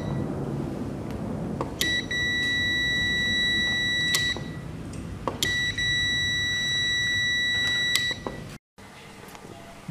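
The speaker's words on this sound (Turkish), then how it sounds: "Burada da akım verildiğinde 87'de buzzer ötecek, verilmediğinde ise ötmeyecektir." A buzzer on a homemade relay training board switches on twice, each time a steady electronic tone lasting about two and a half seconds, loud and close over a low background hum.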